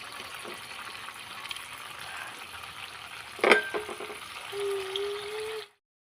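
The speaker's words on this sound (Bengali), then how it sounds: "এখানে আবারও এগুলো আমি ভেজে নেব।" Coconut semolina pitha frying in a pan gives a steady, soft sizzle and bubbling that runs on its own, with a brief louder clatter midway, before stopping abruptly near the end.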